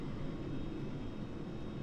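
Steady roar of Vickers VC10 jet engines at takeoff thrust in the Prepar3D flight simulator, a continuous broadband rumble heard from the cockpit.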